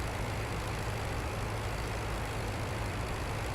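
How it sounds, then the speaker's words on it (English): Droning WWI aircraft engine in the Rise of Flight flight game, a loud constant low rumble with dense broadband roar, steady and unbroken, no voices. "Oh, so let's not over-rev the engine."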